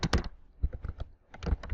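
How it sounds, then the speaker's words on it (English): Quick clusters of keystrokes on a computer keyboard while an email is typed, close and crisp, with short pauses between bursts and no talking. "we're going to go ahead and get rid of this information and type over the top of it"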